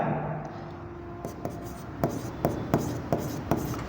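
A pen writes on paper during an accounting lesson, close scratchy strokes punctuated by a steady series of crisp taps about every half second toward the end, alone without talk.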